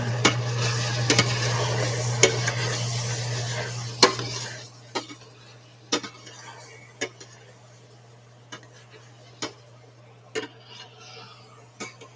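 A spoon stirs a Big Mac potato protein bowl in a sizzling pan, a steady fry hiss that fades halfway through while sharp scraping clicks of utensil against pan repeat every second or so.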